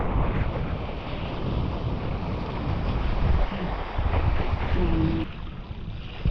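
Strong wind gusts across an open windsurfing spot by the water, roaring and buffeting the microphone in continuous loud surges, with waves washing beneath and a faint short tone partway through.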